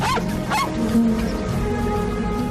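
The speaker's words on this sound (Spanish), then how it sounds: "Los perros ladran y jadean" Dogs bark and yelp in short bursts, two or three quick calls over a steady background hum, fairly close.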